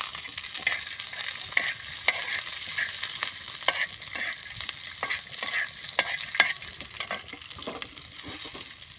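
Peanuts sizzle and rattle in an oiled pan on a clay stove for a masala capsicum dish, with a steady crackle and repeated scraping stirs close by.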